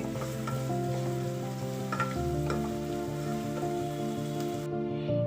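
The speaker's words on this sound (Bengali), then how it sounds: "এবার আমি পেঁয়াজটাকে ভালো করে নাড়াবো। পেঁয়াজটাকে আমি ততক্ষণ ভাজবো যতক্ষণ না পেঁয়াজটা গোল্ডেন ব্রাউন কালার চলে আসছে।" Onions sizzle in hot oil in a pan while being stirred, a steady close frying crackle with occasional scraping, under a faint tonal hum, fried toward golden brown.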